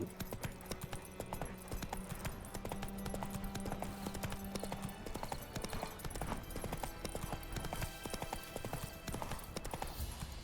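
Hooves of Roach, a horse in the video game The Witcher 3: Wild Hunt, clip-clop in a steady trotting rhythm for the whole stretch, fairly close and even in loudness, with a brief whinny-like tone partway through and no talk.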